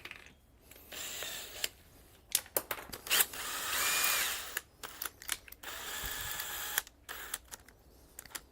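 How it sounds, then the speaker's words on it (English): A power drill bites into the first layer of an aluminum tube inside a van during a flooring install, with several short whirring bursts and one longer sustained run, along with clicks and handling knocks. "I'm not drilling through the van, just the first layer of the aluminum tube."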